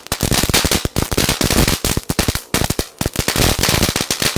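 Toy gun caps go off in a rapid irregular string of sharp, loud cracks and pops, firecracker-like bursts packed closely together with no talk.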